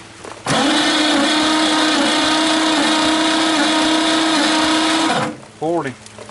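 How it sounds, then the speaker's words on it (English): An engine cranking over on the starter during a cylinder compression test, a steady loud whirring drone lasting about five seconds that starts and stops abruptly, followed by a brief voice. "Alright, now crank it over."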